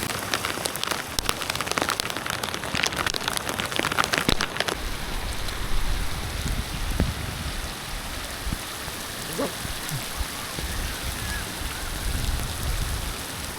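Steady rain falls on a surface and water around a boat during a Quezon Province outing, a dense continuous hiss with some louder close drops early on, heard alone without talk.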